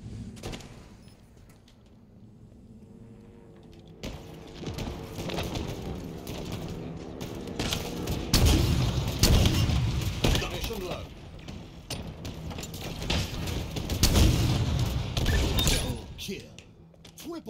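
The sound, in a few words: rocket launcher and pistol fire in the video game Halo Infinite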